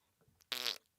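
A single short, buzzy fart, fairly faint, preceded by small quiet rustles.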